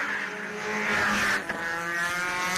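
A Porsche GT4 race car at a time attack event on track howls steadily at high revs with a harmonic engine note, with a brief dip and crackle midway before it carries on loud and close.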